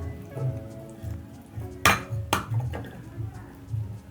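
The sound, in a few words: eggs being added to carrot cake batter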